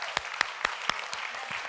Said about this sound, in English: if we can just get one more round of applause real quick for that